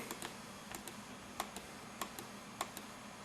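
Sharp, quiet mouse clicks come in small uneven bursts as computer buttons adjust the focus on a Canon EOS 1000D (Rebel XS) camera, with a few louder clicks standing out against faint room noise.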